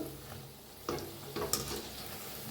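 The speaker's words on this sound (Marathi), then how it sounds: "एक एक असं सोडायचं, खालीवर करून तळून घेऊया आपण" Cauliflower pakoras deep-fry in hot oil, with a steady hiss and crackle and a few brief bursts of bubbling as battered pieces drop in one by one.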